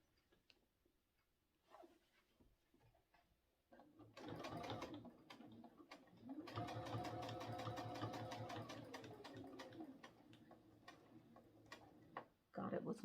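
A sewing machine stitches quilt binding, starting with a few short bursts, then running in a rapid ticking stitch rhythm for several seconds, up close beside quiet handling sounds.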